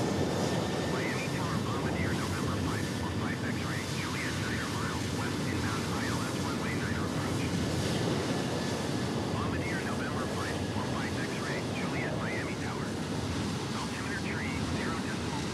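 A simulated airliner takes off from runway 8 left at Miami International Airport in Microsoft Flight Simulator 2020, a steady, broad jet roar that holds constant throughout, with faint wavering tones drifting above it.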